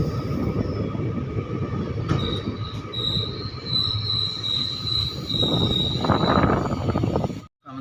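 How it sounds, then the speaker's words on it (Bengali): Train 13417 from Asansol to Malda leaves platform three at New Farakka Junction, with a steady close rumble of carriages and a long, high wheel squeal running through most of the sound. "ট্রেন ছেড়ে দিল উনি ফারাক্কা জংশন স্টেশন থেকে"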